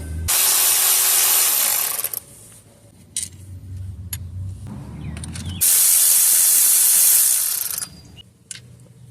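Ratchet turning a 10mm bolt on a Toyota Camry 2.4 engine during a timing chain job, with two long loud bursts of hissing broadband noise separated by quieter stretches with low mechanical rumble and faint clicks.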